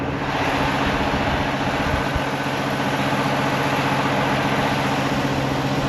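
A Steiger 470 tractor fitted with a Grouser blade idles in deep blizzard snow, giving a steady, close, unbroken engine rumble with a constant hum and no talking.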